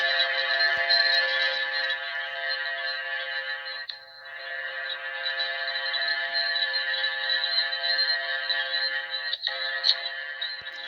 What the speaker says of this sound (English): I'm gonna give you an idea as to how the bell kind of sounded